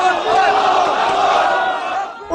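A crowd of angry Palestinian protesters outside a mosque shouts slogans in unison, a rough, blended chorus of raised voices that swells and holds for a couple of seconds before fading.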